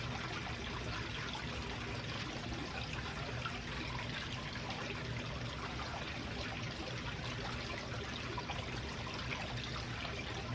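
Steady water flowing and trickling out of a beach scoop used for gold hunting on the Lake Superior shore, a continuous close rushing wash that holds level for the full stretch with no talk.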